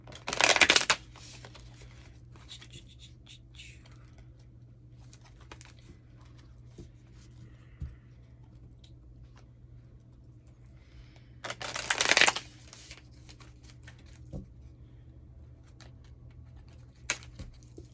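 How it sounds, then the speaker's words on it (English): Cosmo Tarot deck cards being shuffled in two short bursts of riffling, one at the start and another about twelve seconds later, with near-silence and faint scattered taps between them. Nobody talks. "I'm going to shuffle"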